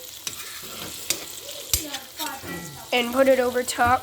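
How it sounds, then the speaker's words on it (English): Butter sizzles and fries in a pan as it is spooned over a steak, with scraping and stirring noises under a speaking voice that grows busier toward the end. "it's called basting. And you want to just scoop the butter"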